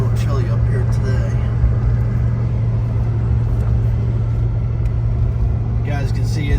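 Steady low engine and road rumble from a 1989 Mercedes 560 SEL out on a test drive, heard from inside the car as a constant drone while someone talks throughout.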